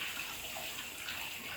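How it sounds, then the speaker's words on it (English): A hand rinsed under a running kitchen tap: a brief, faint, steady hiss of flowing water with no voices. "I'm just going to rinse my hand off real quick."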